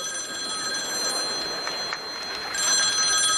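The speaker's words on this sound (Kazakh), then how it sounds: "Телефон шырылдап атыр." A telephone rings with a continuous high electronic trill that stays steady throughout, heard up close with no talking.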